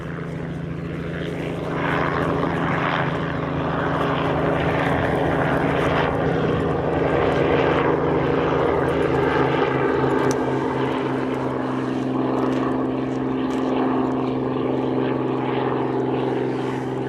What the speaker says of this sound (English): a helicopter just starting off on the south side by Golf.